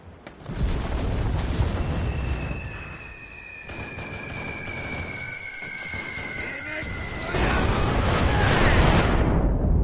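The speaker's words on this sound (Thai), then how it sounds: "ระเบิดทะลุบ้านมาได้ไงวะเนี่ย" Explosions rumble through Enlisted gameplay on a Japanese battle-rating match, a continuous heavy roar of blasts and artillery with a long whistling tone in the middle and a louder burst near the end.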